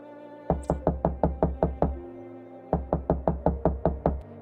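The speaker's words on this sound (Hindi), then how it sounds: "वहां पहुंची और दरवाजा खटखटाया" Two quick bursts of knuckles rapping on a wooden door of a big house, about six to eight sharp knocks each with a short pause between, close and clear against faint background music.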